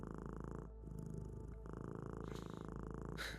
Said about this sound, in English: their purrs are trying to be healing